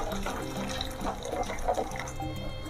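Water is poured into a clay cooking pot of kosala greens and mung dal for Odia dalma, a steady close splashing and filling sound with small drips, heard alone.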